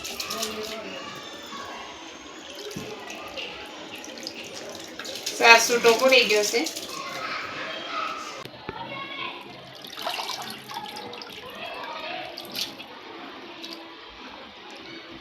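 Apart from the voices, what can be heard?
grated potato being washed in fresh water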